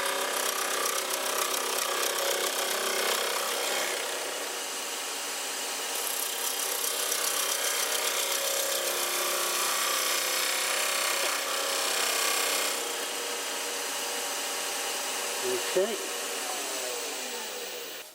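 Wood turning on a lathe during a three-sided box demonstration: a loud, continuous rasping scrape of a tool against spinning wood, fairly close and steady, with a brief clunk near the end.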